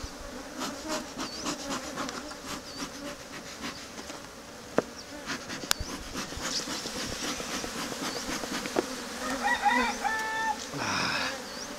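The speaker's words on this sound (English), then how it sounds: "There's a bee in there right now." Honeybees buzzing steadily inside a hive during requeening, a dense continuous drone with scattered clicks and brief closer buzzes near the end.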